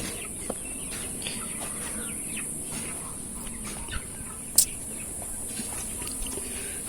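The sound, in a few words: Sonali chickens clucking at a farm shed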